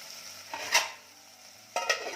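Tomatoes sizzle in a pan over fried onions for Kolhapuri chicken rassa, a soft steady frying hiss broken by two brief stirring scrapes, with no talking.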